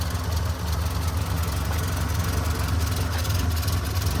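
A restored 1968 Morris Traveller with a rebuilt original engine idles steadily, a low even burble with a faint rhythmic knock, close up and unbroken throughout.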